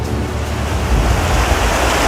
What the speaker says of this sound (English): This is a creek that runs through our campground